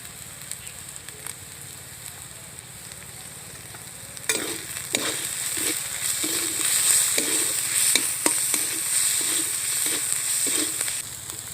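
Spices for a crab curry frying and sizzling in a pan, a steady hiss broken by repeated scrapes and clacks of stirring from the middle of the clip onward, close and moderately loud, with no talking.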